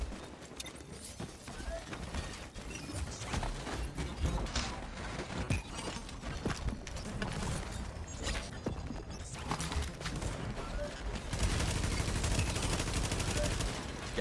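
Gunfire in The Division video game crackles in dense, overlapping bursts over a busy, continuous wash of game noise, growing louder near the end.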